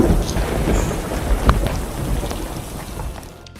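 Steady heavy rain pours down with a rumble of thunder, including a sharper crack near the middle, a dense wash of sound that fades slightly toward the end.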